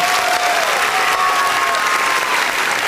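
Loud, dense applause from an audience thanking the cooks at a gathering, steady and close with whistling tones and no talk.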